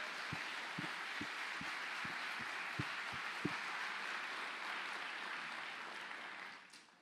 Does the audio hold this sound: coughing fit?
no